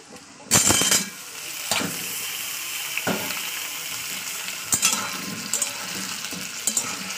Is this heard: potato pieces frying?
yes